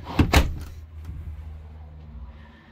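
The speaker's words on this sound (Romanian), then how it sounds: "Hai să închidem ușa ca să nu mai avem gălăgie de afară." A door on a 2004 caravan shuts with two sharp, close thuds near the start, then a quiet interior with faint low hum and a small click.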